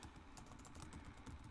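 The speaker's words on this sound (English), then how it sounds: "So I can just start typing right here. I'm typing my content" Rapid, continuous keystrokes on a computer keyboard while writing a WordPress blog post, quiet and close, with an irregular patter of clicks and no talking.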